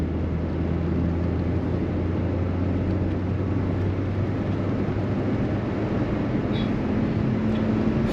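Small Rover 100 Metro hatchback with a five-speed gearbox, heard from inside as a steady, moderately loud engine drone and road rumble while it accelerates and changes up into top gear, with a slight shift in pitch partway through.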